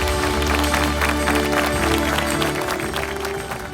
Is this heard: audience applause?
yes